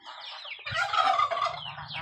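Turkeys gobble in a rapid, wavering burst at close range on a rural farm, with a low rumbling undertone beneath the calls and no talking.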